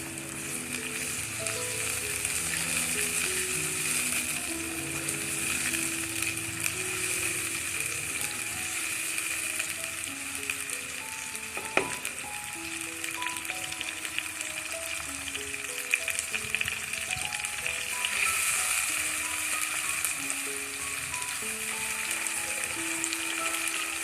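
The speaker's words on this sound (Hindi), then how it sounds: "अब हम मसाले को अच्छी तरह भून लेंगे।" Spices sizzle in hot oil with a large tomato for aloo shimla mirch, a steady loud frying hiss across the whole stretch with occasional scrapes and clinks of stirring and no voices.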